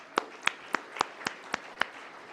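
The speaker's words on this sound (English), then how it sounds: "One more round of applause for them, please." A few crisp, isolated hand claps at a security conference panel, seven sharp claps spaced evenly in a steady rhythm against a quiet room.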